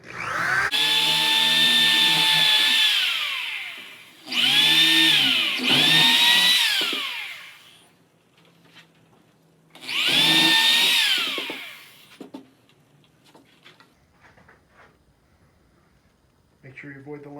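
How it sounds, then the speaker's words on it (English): A power drill drives screws into crate wood in three loud whirring bursts, the motor pitch rising as each screw bites, followed by quieter handling clatter. "We'll drill the remaining."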